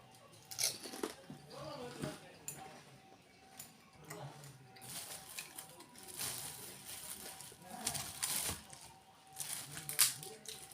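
Crisp fuchka (pani puri) being bitten and chewed up close, giving intermittent crunches and soft mouth noises against a quiet room, with faint voice-like sounds in places.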